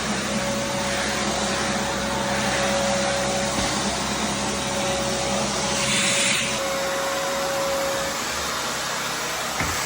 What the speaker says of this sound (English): now we're testing the shop vac